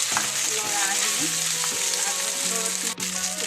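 Cooked rice is stirred and fried in a pan with green chillies and garlic for a traditional Assamese khar rice dish: a close, steady oil sizzle with scraping stir strokes and faint background tones.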